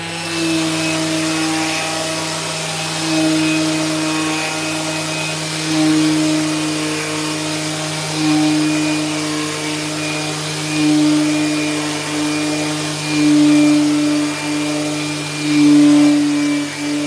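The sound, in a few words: power sander sanding oak shaker panels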